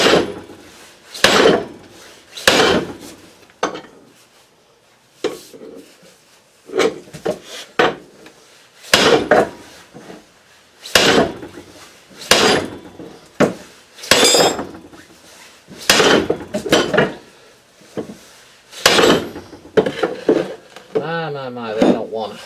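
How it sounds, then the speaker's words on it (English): Heavy 4-pound hammer blows on metal land one at a time with gaps between them, loud and close, some ringing briefly after impact. "My 4-pound hammer."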